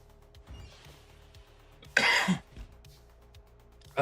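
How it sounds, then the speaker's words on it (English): A single sharp cough bursts out near the middle, surrounded by quiet room noise and faint thumps. "Forgive the coughs, please."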